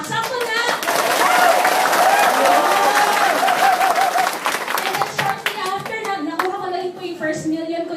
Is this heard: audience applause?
yes